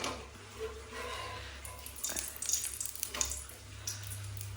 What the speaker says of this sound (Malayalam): എണ്ണ ഒഴിക്കാം